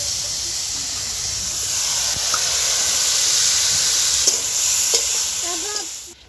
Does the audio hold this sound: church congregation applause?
no